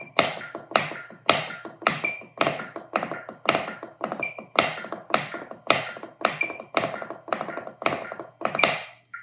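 Drum warmup of steady triplets with the accent shifted to the third partial, played against a click; a dense, even stream of sharp taps with regular louder accents, close and alone without talk.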